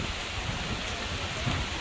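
A rainy-season downpour at a beach house in the Philippines hisses in a dense, steady wash of rain, soft and unbroken.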